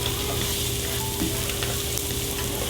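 Garlic sizzles steadily in a pan with beef fat left from browning onions for a lasagna soup, a constant close frying hiss with a brief stir around the middle.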